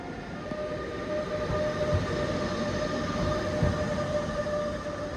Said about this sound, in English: I think one of the engines is arriving now.